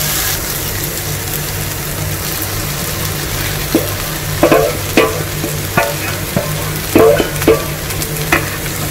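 Shallow-fried prawns are stirred into a sizzling tomato masala in a pan for a Kerala-style prawn roast, with constant loud frying hiss and intermittent scraping clacks of the spoon against the pan.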